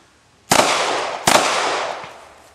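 Two sharp, loud pistol shots at an outdoor shooting range, spaced about three-quarters of a second apart, each with a long echoing decay and no talking over them.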